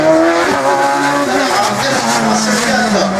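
A rally slalom race car drives on a closed track at a regional slalom event, its engine note and tire noise sounding steadily and fairly loud throughout, with background voices murmuring over it.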